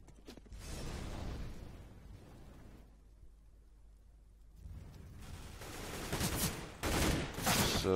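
Competitive Counter-Strike: Global Offensive gunfire on de_cobblestone during a five-headshot ace: an early burst of shots, a quiet lull, then loud rapid fusillades of rifle fire building toward the end.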